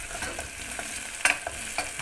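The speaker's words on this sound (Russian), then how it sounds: "Лучок жарится с этим." Chopped onion fries in a home kitchen pan, a steady sizzle broken by several scraping stirs of a utensil, close and clear with no voices.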